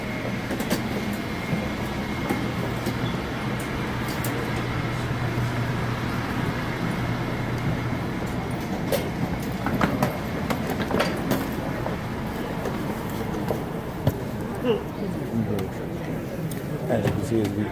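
An airport transit train rolling along the tracks with a steady rumble and occasional clicks and rattles, heard from inside a carriage.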